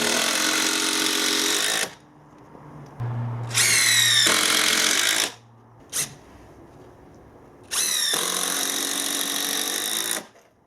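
Power drill driving 100 mm turbo gold screws into timber feather edge cladding, three loud, close bursts of whining motor and rising screw-drive pitch separated by quiet pauses, with a short blip between the second and third.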